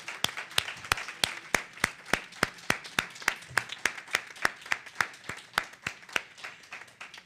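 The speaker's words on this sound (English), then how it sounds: "can we please give Reverend Ruth another round of applause?" A Sunday service congregation at a spiritual center claps for Reverend Ruth in a sharp, regular rhythm, the strong, evenly spaced beats ringing out over a faint murmur of the room.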